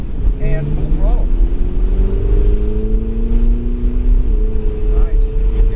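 A Ferrari 488 GTB engine at full throttle on the track at Kansas Speedway, heard on board: a steady loud engine roar climbs in pitch through the gears, with an instructor's voice talking over it.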